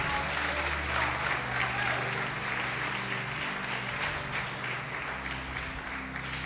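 A church congregation applauding during a sermon, producing a sustained, dense wash of clapping that stays steady for the full stretch with a voice faintly under it.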